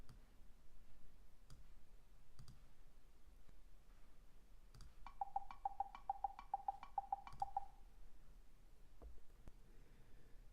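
A metronome app on an Android phone plays a quick run of about a dozen evenly spaced, bright, thin clicks at duple subdivisions. The clicks are faint and stand alone against a quiet background with a few scattered taps.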